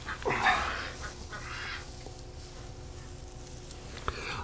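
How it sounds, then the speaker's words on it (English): Two pairs of geese honk, a short burst of calls near the start followed by fainter scattered honks over a low background rumble. "So 2 pairs of geese."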